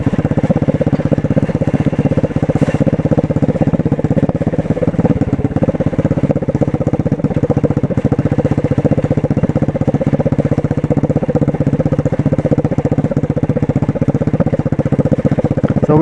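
A 125cc motorcycle engine drones continuously while riding along a street, a loud, even mid-pitched buzz with steady rattling throughout and no talking.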